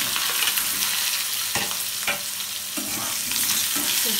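Eggplant and potato fry in a pan of oil with nigella seeds, making a steady, close sizzle broken by occasional stirring scrapes and clicks; no one speaks.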